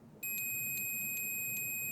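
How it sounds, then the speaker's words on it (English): A multimeter's continuity tester sounds a steady high electronic tone as its probe touches the chassis of a 1955 Magnatone 108 guitar amplifier, starting abruptly after a brief quiet moment and holding on, fairly close, with no voices. "So we want this to beep if I touch the chassis"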